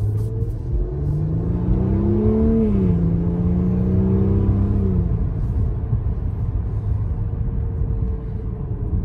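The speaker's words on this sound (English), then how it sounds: "Maserati, even for a small V6, really does a nice sound on the" A 2021 Maserati Levante's sporty V6 exhaust revs up and holds a rising, throaty drone before settling into a steady cruising hum; no one speaks.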